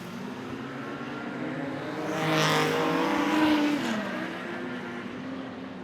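A production sedan race at Gympie Speedway: engine noise from the racing cars swells as they pass, peaks at mid-clip and then fades back to a steady distant drone.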